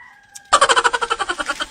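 A native chicken clucks in a quick, rhythmic run of about a dozen loud, close calls after a brief quiet tone.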